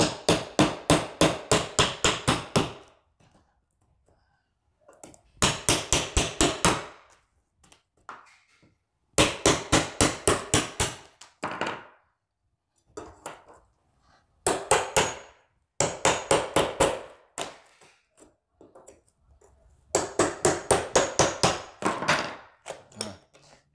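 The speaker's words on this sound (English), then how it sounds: "I know you guys don't wanna sit here and watch me tear out tile" Old floor tile is torn out with a tool: bursts of rapid, sharp repeated strikes in groups of several seconds, separated by short quiet gaps, loud and close.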